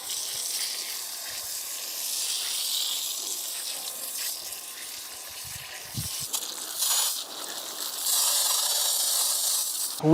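Brake cleaner sprayed from an adjustable nozzle onto dusty car wheels: a steady close hiss running nearly the whole time, swelling louder toward the end, with light handling clicks and no talk.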